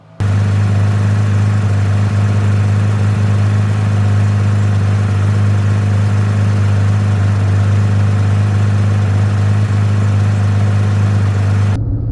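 A 2018 Porsche 911 991.2 GT3 Manual runs its front axle lift system with a steady, loud electric hum and whir. The hum holds constant for about twelve seconds, then cuts off abruptly.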